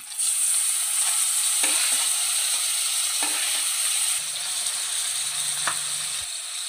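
Finely chopped tomato and onions fry in oil in a pan for a pasta dish, giving a loud, constant sizzle with a few scraping stirs and clinks of the utensil.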